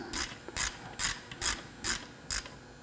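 A hand ratchet tightens bolts on a mold, giving six evenly spaced, crisp clicking bursts about half a second apart, close and fairly loud over a low background hum.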